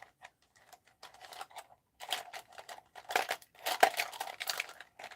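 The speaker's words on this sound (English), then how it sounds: "I'm shuffling pins around here." Small metal pins being shuffled and rummaged through at an art desk, giving a close, dry patter of light clicks and crinkly rattles in irregular bursts that grow busier and louder toward the end.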